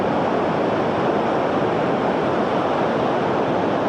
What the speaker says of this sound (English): you can see the waves are breaking quite far out